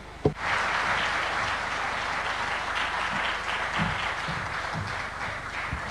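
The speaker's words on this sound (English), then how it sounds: "A warm, big round of applause for His Excellency." Large audience applauding after a presidential address at the Africa Forward Summit, a sustained dense wash of clapping that starts abruptly and holds steady throughout, with no talk over it.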